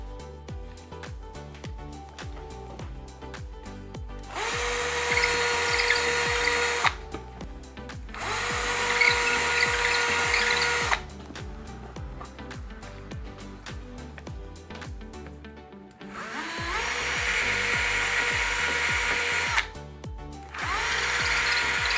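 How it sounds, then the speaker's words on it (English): A power drill fitted with a masonry bit bores into a plaster wall in three loud, sustained bursts of high whining grind, separated by short pauses and quieter handling noise. "I've got a suitable masonry drill bit attached for this wall that I'm going to drill into."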